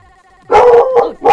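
A dog gives a few loud, close barks and yips with a howling, whining edge, in short bursts over a quiet background.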